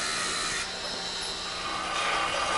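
Hand sawing through the bronze sprues and gates of a cast sculpture, a steady rasping metal-cutting scrape running continuously at close range with no talk.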